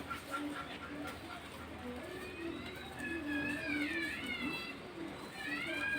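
Pigeons coo softly in a recurring, low, throaty pattern, faint and somewhat distant, with other chirping bird calls mixed in over a quiet background.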